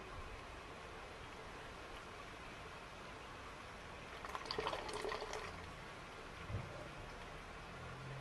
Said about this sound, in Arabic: شوف قاعد ينزل الماء